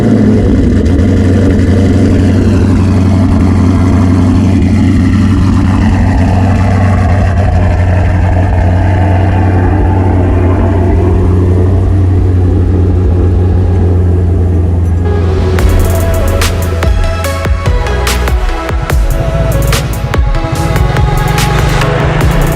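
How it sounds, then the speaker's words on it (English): A twin-turbo car engine cold starts with a loud, steady low idle rumble, then the sound turns harsher and more ragged with crackling bursts in the final seconds. "So today we're gonna get a cold start."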